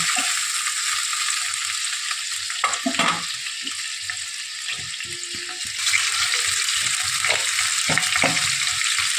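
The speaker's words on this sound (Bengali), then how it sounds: "চিংড়ি মাছগুলো আগে নুন হলুদ দিয়ে ভেজে উঠিয়ে নেবো" Prawns fry with salt and turmeric in a pan, a steady close hiss of hot oil with occasional stirring clatter and spatter, growing slightly louder partway through.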